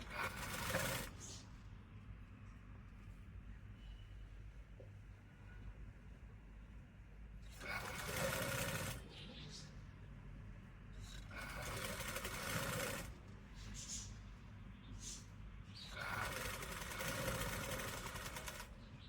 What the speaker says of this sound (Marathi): इथे आता शिलाई मारून घेऊया